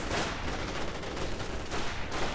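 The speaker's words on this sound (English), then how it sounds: "Sturmgewehr 44 opening up on the riflemen" Sturmgewehr 44 assault rifle fire in a World War II strategy video game, a dense rattle of rapid automatic shots mixed with other gunfire, steady and fairly faint throughout.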